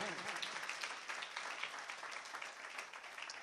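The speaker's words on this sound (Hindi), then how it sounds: "ताली बजा के प्रभु का धन्यवाद करेंगे।" Church congregation clapping together to thank God during a Hindi-language worship service, dense steady applause from many hands filling the room with little else heard.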